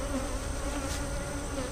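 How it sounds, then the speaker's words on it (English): Honey bees buzzing densely inside an opened hive box during a colony split, a continuous close drone with no talk. "Any field bees that are in here, they're gonna leave and go back to the front."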